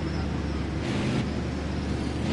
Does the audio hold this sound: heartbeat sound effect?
no